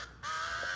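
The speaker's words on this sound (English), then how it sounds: "I thought the bird was trying to talk for a moment. I hear the crows can talk." A single crow caws once, a short, harsh call that sounds moderately close and stands alone.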